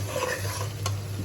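Spice paste fries in oil while being stirred, a close scraping stir over a soft sizzle, with one brief sharp clink of utensil against the pan.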